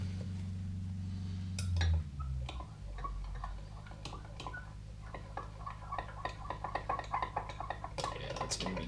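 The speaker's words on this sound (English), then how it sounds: "Go ahead and give that a good stir." Soft plastic bait mix with a little flake being stirred in a small container, quick irregular clicking and ticking of the utensil against the sides, growing busier toward the end over a low background hum.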